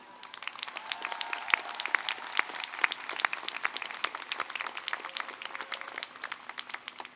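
Applause from a commencement crowd honoring faculty and staff, a dense, sustained patter of many hands clapping at moderate volume, carrying steadily for several seconds without letting up.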